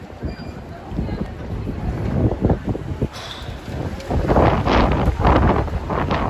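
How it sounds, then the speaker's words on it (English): Strong gusty wind roars across an outdoor microphone in New York City, rising and falling in loud buffeting bursts that grow heavier toward the end. "Wow, the wind is really picking up here."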